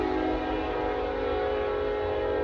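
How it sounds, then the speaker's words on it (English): Train passing close by, a sustained loud tonal horn-like drone over a low rolling rumble, continuous for the whole stretch with no voices. "gonna wait till the train pass"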